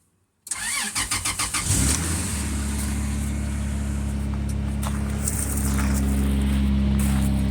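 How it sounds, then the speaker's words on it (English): A 1996 Toyota Land Cruiser FJ80 engine cold-starts after sitting a couple of days in cold weather: a rapid burst of starter cranking catches into a loud, steady idle that rumbles on close by, with no talking. "Going to do a cold start of my Toyota Land Cruiser."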